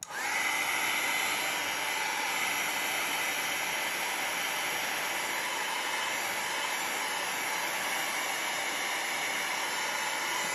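A heat tool blows steadily on watercolor paint, a loud continuous whooshing roar with a high whine that starts abruptly and holds unchanged for about ten seconds.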